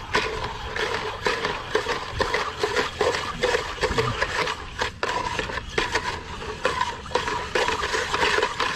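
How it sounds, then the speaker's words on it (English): Bar stirring a trailer strap deicer solution in a container, continuous scraping and sloshing with steady rubbing texture, close and fairly loud throughout. "I could probably just use this bar to mix it"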